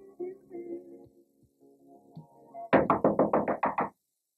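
A quick series of about eight loud, evenly spaced knocks on a door sounds after some softer background noise, close and sharp, ending abruptly.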